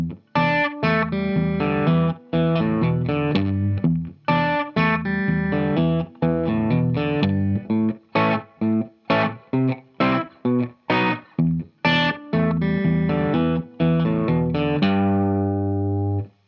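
Electric guitar with a distorted tone plays a bluesy riff, choppy repeated phrases broken by short stops and bar chords, loud and close, ending on a ringing sustained chord with no talking.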